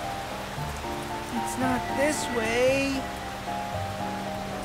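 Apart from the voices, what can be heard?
rain falling in cartoon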